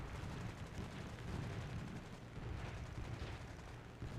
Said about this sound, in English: I'm totally showering him in machine gun fire.